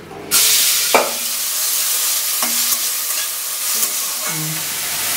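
Onion, tomato and green chili hit white oil in a wok with a loud steady sizzle, broken by a few sharp clanks of a spatula stirring against the metal; no voices.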